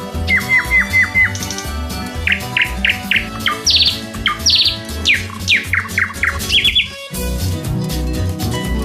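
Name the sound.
birds chirping in a bird language lesson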